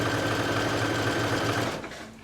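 A sewing machine runs steadily, stitching a ruffle onto a swim top. The motor hum is close and continuous, then it slows and stops near the end. No one speaks.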